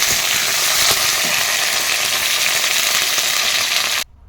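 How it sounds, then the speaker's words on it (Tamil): Cauliflower deep frying in hot oil, a loud, dense, continuous bubbling sizzle heard close up that cuts off abruptly near the end. "இப்போ வந்து பூ கோஸ் போட்டிருக்கேன் இதுவும் அதே மாதிரி கோல்டன் கலர் வந்ததுக்கப்புறம் ஃப்ரை பண்ணி எடுத்துக்கலாம்"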